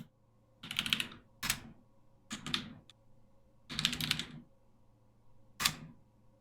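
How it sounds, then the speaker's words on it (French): A computer keyboard clatters in short, separate bursts of typing with pauses between them, close by and fairly quiet against a low background hum. "Oui, mon clavier, il est un peu de bruit."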